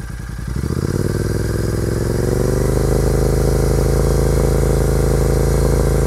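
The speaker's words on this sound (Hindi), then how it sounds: "अभी इसको रेव करके देखते हैं 3000 आरपीएम तक." A 650 twin motorcycle with its exhaust open and no dB killer climbs from a throaty idle into a steady, loud, close rev held near 3000 rpm, a deep even drone with slight clatter.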